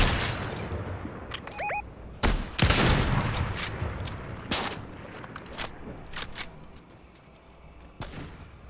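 Gunfire in the video game Fortnite, a burst of sharp cracking shots followed by scattered single reports, loud and close, fading to lighter distant pops toward the end.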